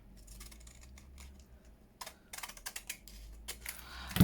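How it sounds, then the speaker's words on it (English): Scissors cut a paper envelope: a quiet stretch gives way to a run of crisp, close snips and rustles that grow denser and louder toward the end, with no voices. "Just try not to cut the actual envelope."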